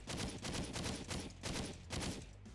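Rapid, loud bursts of gunfire from the video game Rise: 30 Minutes to Extinction, firing in repeated volleys with brief gaps between them and no talking.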